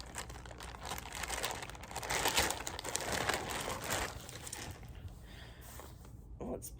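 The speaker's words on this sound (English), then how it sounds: "Sorry for the crinkling." Plastic packaging crinkles up close in a steady, irregular rustle that fades toward the end, with a voice speaking faintly underneath.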